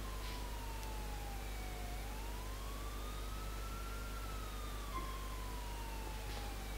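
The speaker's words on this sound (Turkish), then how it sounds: "Aha polis geliyor polis geliyor." Police siren in the video game GTA IV, a wailing tone that slowly falls, rises and falls again, steady and moderately distant over a constant low rumble of game ambience, with no talk.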